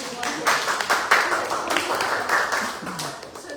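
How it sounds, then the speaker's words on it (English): An audience claps in a round of applause, a brisk, moderately close patter of many hands that rises and falls for a few seconds. "Yes, round of applause for everyone."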